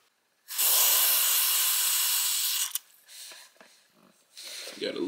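WD-40 sprayed onto a car's long tube intake part, a loud steady hiss of aerosol lasting about two seconds, followed by quieter shuffling and handling noises.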